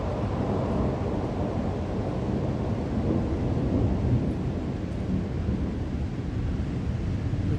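Thunder rolls through a lightning storm over Tokyo, a deep sustained rumble with steady rain and wind noise, heard from a balcony at a distance with no talk.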